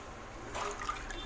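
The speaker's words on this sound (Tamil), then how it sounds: "மிக்ஸ் பண்ணி விட்டதுமே இதில் அளவு தண்ணி ஊற்றிடலாம்." Water poured into a pressure cooker over masala-mixed rice for Tamil-style mint rice, a brief soft splashing fill rising midway through a quiet kitchen background.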